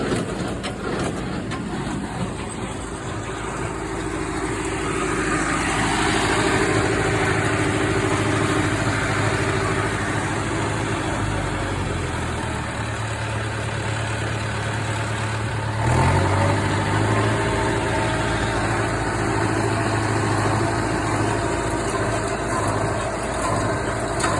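Square baler working hay behind a tractor in an open field, a steady loud mechanical drone with engine hum throughout and a brief surge near the end.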